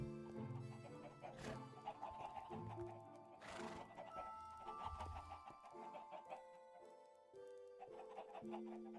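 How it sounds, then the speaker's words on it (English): Chickens clucking in a farm area of a long-running Minecraft-style world, with short bird calls mixed into game music and ambient sounds throughout. "Chickens! My boys!"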